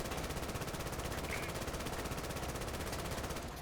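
A vehicle gunner's machine gun fires in a video game, a rapid, steady stream of close automatic rounds that continues unbroken through the whole stretch.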